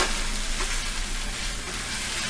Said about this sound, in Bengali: ডিমগুলোর সাথে মশলাটা খুব ভালো করে মিক্স করব